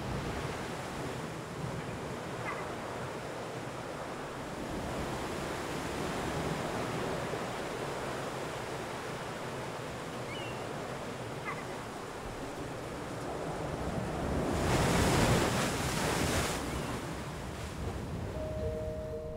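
Ocean surf and wind around the Channel Islands off California, a broad continuous wash of rolling waves with wind buffeting, swelling into a louder crash near the end, fairly faint and distant.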